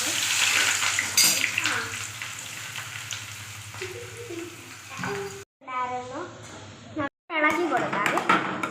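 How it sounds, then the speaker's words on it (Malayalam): Onion, garlic and green chili with mustard seeds frying in hot oil: a steady hiss and sizzle with stirring scrapes, breaking into brief gaps and sharper spitting near the end, under a voice talking. "അടുത്തത് നമുക്ക് സവാള, വെളുത്തുള്ളി, പച്ചമുളക് അതെല്ലാം എടുത്തിടാം."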